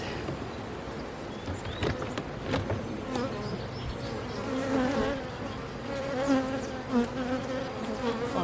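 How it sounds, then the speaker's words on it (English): Honeybees swarm busily around an opened hive at the start of the beekeeping season, a dense, steady buzzing that rises and falls as individual bees pass close by, filling the whole stretch with no talk. "Look how those bees look. They are very busy and happy."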